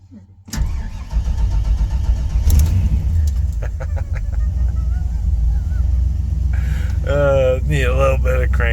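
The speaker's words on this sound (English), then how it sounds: "Need a little bit of cranking, okay." A truck engine cranks briefly, then catches and settles into a loud, steady idle close by, with a few short clicks and a high squeal or voice near the end.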